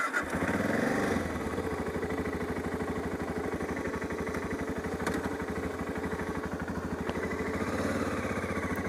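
A BMW F650GS motorcycle engine chugs steadily at low revs, a loud continuous thumping rhythm close by throughout.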